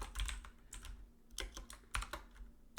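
Keys clatter on a computer keyboard as a grep command is typed at a terminal, a quick run of close, crisp taps in uneven bursts with short pauses, alone.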